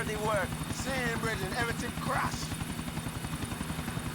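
Helicopter in Grand Theft Auto IV, a steady rhythmic rotor chop with engine drone running throughout, under a voice talking over the game sound.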